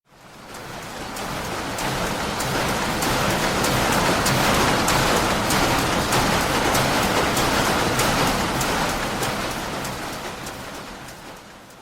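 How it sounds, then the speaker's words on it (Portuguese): Steady rain falling outdoors, a dense hiss of drops that swells in and holds evenly throughout, close and fairly loud with no voices. "Podemos distinguir muitos fenômenos do tempo atmosférico somente pelos sons. As chuvas e as trovoadas."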